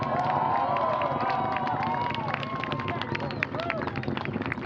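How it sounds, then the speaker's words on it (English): Crowd at Wallops cheering the liftoff of an Orbital ATK Antares rocket carrying a Cygnus capsule, a lively mix of whoops, shouts and scattered yells that stays steady and fairly close for the whole span. "Crowd watching the launch at Wallops there, cheering its liftoff."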